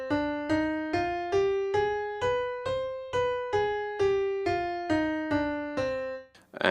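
Harmonic minor scale in C, played as a clean melodic run of about thirteen evenly spaced single notes rising and then falling, each note struck and decaying, quiet and alone, with a brief noisy blip at the end.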